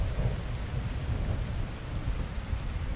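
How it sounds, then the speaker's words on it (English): Rain pours with deep rolling thunder in the modded Skyrim Special Edition video game, a dense, continuous storm wash with low rumbling underneath and no voices. "I like the sound of rain, alright?"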